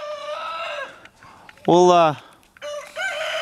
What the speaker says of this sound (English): You can hear the roosters and stuff in the background.